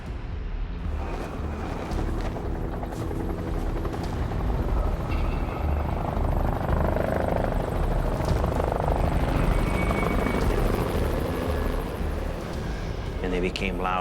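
A helicopter rotor thump during a storm in the wilderness, heavy and continuous, building in loudness toward the middle as it moves overhead, with a voice speaking over parts of it.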